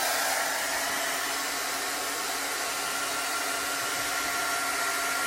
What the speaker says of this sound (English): So, I'm going to dry this off a little bit.